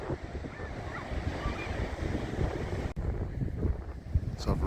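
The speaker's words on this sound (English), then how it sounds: "Ocean's pretty rough today." Rough ocean surf at Elephant Rocks near Denmark, Australia, roars as a steady broadband wash under gusty wind buffeting the microphone, continuous and fairly close with no speech.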